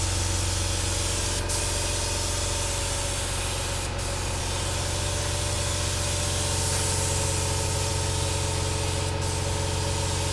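Steady, loud hiss of a spray gun laying a primer coat on a Farmall Super M tractor rolling chassis, with an air compressor droning underneath, continuous with no talk.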